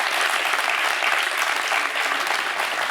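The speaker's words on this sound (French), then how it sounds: "Ça vaut des applaudissements quand même." A French junior quiz show's studio audience applauds a 15-year-old contestant who qualified, with steady, dense clapping held at an even level for the whole stretch and no talk over it.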